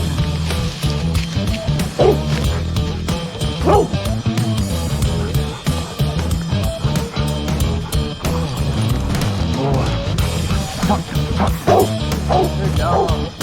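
A hunting dog out in the woods on a squirrel hunt barks in repeated yips and lets out whimpering whines, fairly close and loud, while someone talks to it encouragingly.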